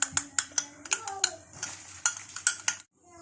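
An egg being beaten with cinnamon in a bowl, a utensil clinking against the dish in a quick, steady rhythm of sharp taps that stops abruptly.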